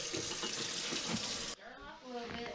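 Water runs steadily from a tap into a sink while jars are washed for making strawberry jelly, a loud broadband gush that cuts off partway to leave softer splashing and a faint voice.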